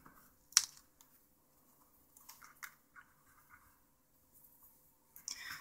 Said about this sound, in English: just use your pry tool, get it under there, and just carefully get that up